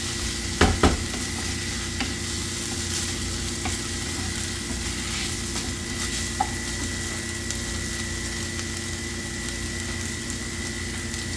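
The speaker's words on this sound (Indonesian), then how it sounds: "Aduk-aduk bentar ya" Rice grains are stirred in a pot while making Arab-style rice, a quiet, steady scraping and shuffling with a few sharper clinks near the start and a faint background hiss.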